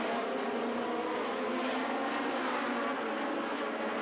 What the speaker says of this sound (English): Sandy Dells in the black car, number 70, in front of Payne Hidalgo